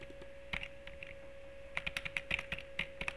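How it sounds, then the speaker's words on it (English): Computer keyboard typing: irregular clusters of soft key clicks, close by, over a steady electrical hum with no talking. "Now you can hear the keyboard."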